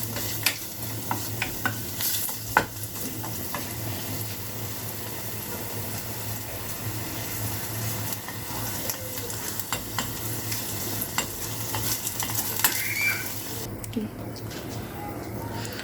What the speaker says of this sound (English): The onions has been frying for 2 minutes